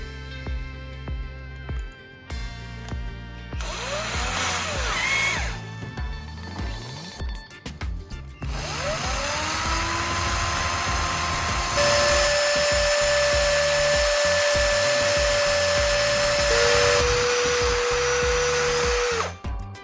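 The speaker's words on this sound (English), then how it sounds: "Next, I'll grind the battery core to shape it into a fine soldering tip." A rotary grinder shapes a battery core into a soldering tip, whining and spinning up in pitch with repeated contact bursts, gliding tones and long sustained grinding.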